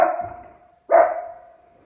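A dog barks twice, close by: a drawn-out bark that fades, a short pause, then a second sharper bark trailing off.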